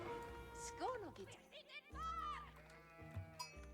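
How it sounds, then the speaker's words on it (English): Sheep bleating in a strategy video game, a couple of short wavering bleats close by over game sounds, with someone talking in between. "Gotta grab that sheep."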